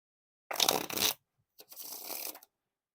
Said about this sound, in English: they do some decent riffle shuffles